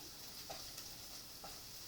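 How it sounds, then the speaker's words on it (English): Chopped onions cooking in a pan while banana ketchup is being made, giving a steady soft sizzle with a few faint stirring scrapes throughout. "when you're cooking and you're making onions translucent, you're basically cooking them until they're soft"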